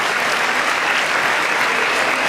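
Dense, loud applause from a large audience at a State of the Union address, filling the short stretch with an even, continuous roar of clapping.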